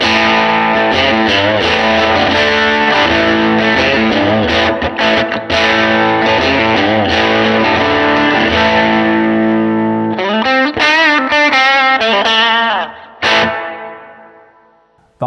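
Electric guitar played through a 5-watt Vyse Amplification Rebel amp with reverb, distorted chords ringing out, then a few picked notes and a final strum trailing into reverb tails.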